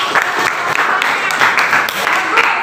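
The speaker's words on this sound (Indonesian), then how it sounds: "beri tepuk tangan untuk kelompok 3" Classroom applause for a student group during an Indonesian language lesson, a steady wash of many hands clapping at close range with voices mixed in.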